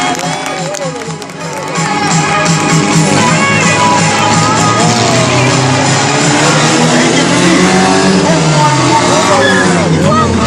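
Cars drive and rev at a motor show, a loud continuous roar of engines with shifting pitch, mixed with crowd noise and amplified announcer talk.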